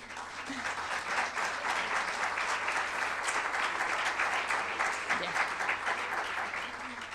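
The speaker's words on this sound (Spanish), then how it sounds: "También quisiera que le dieran un aplauso." Audience applause at a lecture on Spanish tapestry, a dense, steady wash of clapping from a large crowd lasting throughout, moderately loud and even with no pauses.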